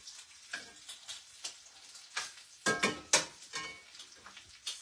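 Bacon frying in a pan crackles and pops in irregular bursts, fairly quiet and close, with no one talking.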